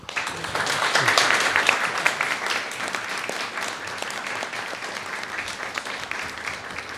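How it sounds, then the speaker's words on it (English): An audience at an academic forum on art and music applauds steadily, a dense, sustained wash of clapping that swells early and then tapers slightly while continuing. "Thank you anyway for the applause."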